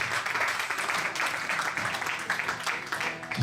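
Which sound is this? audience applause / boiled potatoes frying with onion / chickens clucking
audience applause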